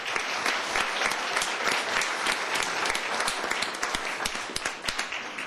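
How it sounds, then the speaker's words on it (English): A room full of people at a county commissioners court meeting applauds steadily, dense clapping filling the whole stretch at an even level with a few sharper individual claps standing out near the end. "Let's give everybody another big round of applause."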